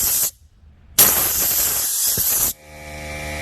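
A short hiss of spray cleans dirt out of a 2-stroke carburetor, then a longer loud sustained burst follows and cuts off into quieter background noise.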